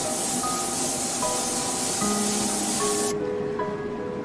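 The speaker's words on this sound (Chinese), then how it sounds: "开启仪器，将瓶内的水喷干为止" An oxygen beauty machine's high-pressure spray pen sprays water out of its small bottle with a continuous, even hiss for about three seconds, then the hiss cuts off abruptly, leaving faint background music.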